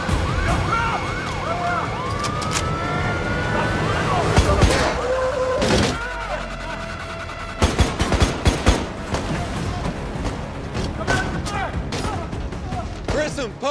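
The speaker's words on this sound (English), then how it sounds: "Don't stop moving, don't stop shooting." A police shootout against a biker gang in a city street: rapid bursts of gunfire crack out over wailing emergency sirens that rise and fall, with shouted voices mixed in.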